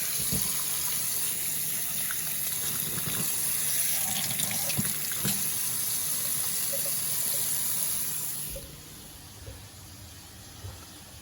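Tap water runs steadily into a backed-up kitchen sink with a splash guard, a continuous close gush that drops away sharply near the end as the flow is shut off.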